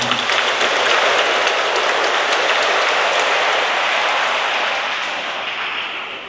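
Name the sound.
church congregation applauding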